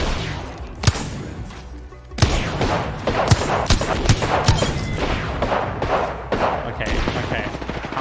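Gunfire from a firefight in the Apex Legends video game, rapid bursts of shots and thuds rattling over a steady game bed across the whole stretch, with a voice talking faintly underneath.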